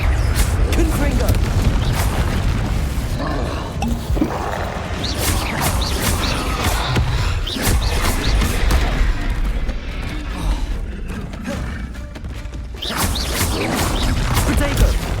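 Confringo blasting spells crack and boom in the fantasy action game Hogwarts Legacy, loud, dense explosions layered over rumbling combat noise and a continuous low roar, with other spell effects mixed in.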